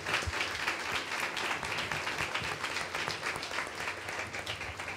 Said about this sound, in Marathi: त्याला जोरात वाजवा टाळ्या